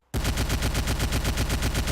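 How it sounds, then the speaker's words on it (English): A Gatling gun sound effect made for an audio drama fires as a rapid, loud, evenly spaced burst that starts abruptly after a brief silence and keeps up a relentless mechanical rhythm to the end. "I have another type of gunshot sound."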